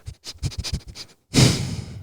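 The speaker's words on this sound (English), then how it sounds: "It's the right in your ear sniff." Someone breathes in short, quick puffs, then after a brief pause takes one fast, long sniff right up close to the ear, loud and airy, alone with no talk.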